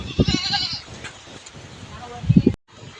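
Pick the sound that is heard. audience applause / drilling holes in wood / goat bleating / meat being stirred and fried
goat bleating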